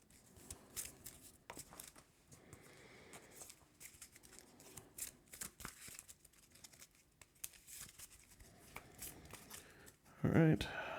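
Marvel Champions playing cards shuffle and rustle close by in several short papery bursts, with a louder riffle near the end, while a voice talks over them.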